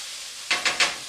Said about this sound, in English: sear the vegetables and get all the flavors out of the peppercorns